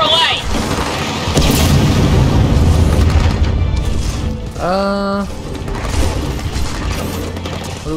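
Missile launches and heavy explosions in the Gears of War 4 video game, booming and rumbling with mechanical clanks under a loud, dense battle mix, with a voice talking over it.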